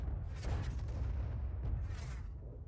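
A heavy artillery shell fires from the GW E 100 self-propelled gun in a video game, a deep rumbling boom with a long low-frequency tail and a faint later crack.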